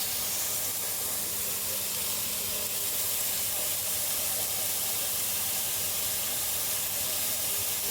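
Onions and fenugreek seeds sautéing in a pan, giving a steady, soft sizzle and hiss throughout with no talk.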